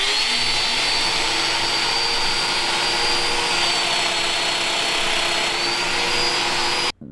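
A Festool Domino joiner whines loudly and steadily during a plunge cut, a continuous high motor drone with a faint airy hiss, cutting off abruptly near the end.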